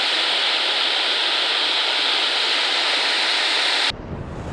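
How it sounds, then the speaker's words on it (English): Helena Falls, a waterfall in the Fiordland wilderness of Doubtful Sound, pours in a loud, steady roar that fills the air before cutting abruptly to a quieter, rumbling wash near the end. "Helena Falls."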